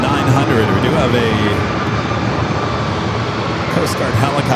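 A Jazz CRJ-900 regional jet at San Diego airport gives a steady, loud broadband engine roar with a sustained whine, heard outdoors on a hot, nearly windless day.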